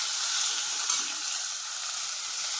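Chopped tomatoes with salt cook in a pan, giving a steady, even hiss of sizzling with no talking and little change across the moment.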